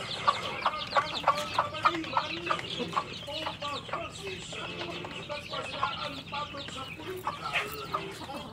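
Chickens in a coop cluck continuously at close range, a busy overlapping chatter of short calls.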